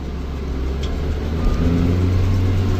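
A tractor engine running at about 1800 RPM powers a baler in a field, holding a loud, even, continuous drone close by.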